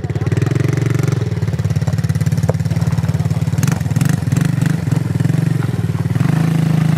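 A quad ATV engine idles with a steady low rumble, then rises in pitch as it revs, with some clattering and distant voices.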